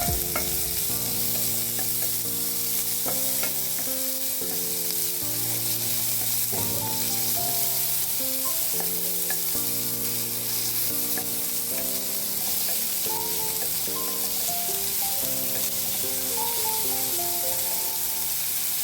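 Onion frying with fenugreek seeds in very little oil over medium heat for broccoli bhaji, a continuous even sizzle with stirring, heard beneath steady background music.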